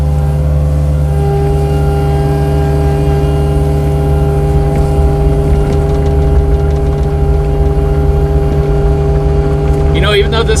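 A John Deere 50G mini excavator engine runs steadily nearby, a constant low droning hum with tonal harmonics throughout, with brief rattling near the end.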